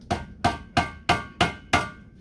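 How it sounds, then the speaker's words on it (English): A hammer strikes a thicker metal flower stick six times at an even, unhurried pace, each blow a sharp close metallic knock that decays quickly. "So to fix it, you get your hammer"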